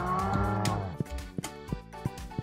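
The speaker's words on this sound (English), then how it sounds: "And now let's check out our little cows." Baby cows moo in the farming video game Stardew Valley: a long, low moo sounds first, then a series of short clicks and taps follows, with no talking.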